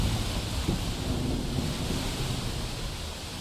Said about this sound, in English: right in the middle of an ash storm.